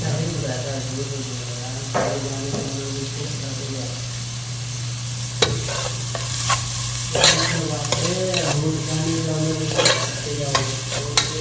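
Five green chillies, with chopped ginger mixed in, fry in hot oil for a channa gravy, giving a steady close sizzle with sharp stirring scrapes and clatters of the spoon against the pan throughout.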